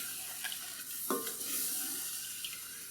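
A spoon scrapes and stirs a thickening mac and cheese sauce in a pot, with soft close scraping strokes, a faint bubbling sizzle and a brief clink, all fairly quiet and without voices.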